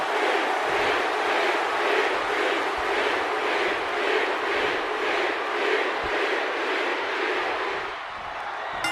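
A packed WWE arena crowd roars and cheers for Jey Uso in a dense, steady wall of noise that holds loud and unbroken for the whole stretch, easing slightly near the end.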